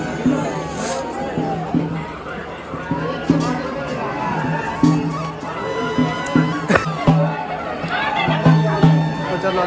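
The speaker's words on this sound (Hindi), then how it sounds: "इनका भीड़ तो बहुत है।" A large crowd gathers at the Shri Doctor Hanuman temple at Dandraua. Steady babble and murmuring voices fill the space, with closer speech and footsteps over the distant hubbub.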